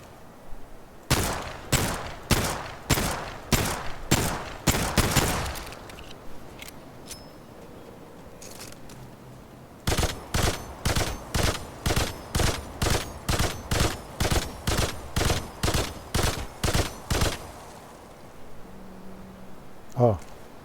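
Weapons firing on a test stand in the Remnant 2 video game: two rapid volleys of sharp, evenly spaced shots, one short burst and then a longer run of about a dozen, loud and close with quiet gaps between.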